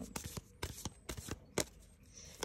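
Tarot cards are shuffled for the last card of a reading: several quick, crisp riffling bursts in an uneven rhythm, close and fairly quiet, with no talking.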